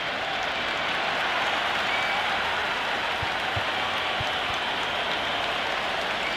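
A virtual stadium crowd in the cricket video game Cricket 26 roars steadily through an India versus Australia T20 match, a dense, even wash of cheering and applause at moderate level throughout.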